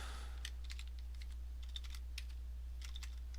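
Computer keyboard typing in a quiet room, a string of light, quick key clicks in short irregular bursts with brief pauses, close and alone without any voices.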